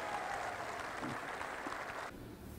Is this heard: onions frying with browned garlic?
no